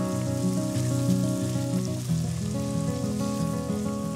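Breaded turkey cutlets fry in hot oil, giving a continuous loud sizzle and crackle, close up and steady throughout with no voices.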